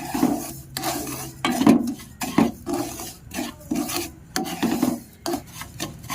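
Dry semolina with salt and sugar scraped and stirred around a pan, a rhythmic rasping of repeated strokes, close and fairly loud, with no talking.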